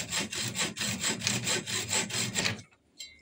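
A hacksaw cuts aluminium tube for nerf barrels in about ten even, rhythmic back-and-forth strokes, loud and close with a rasping scrape. The sawing stops suddenly, followed by a short metallic clink and no talk.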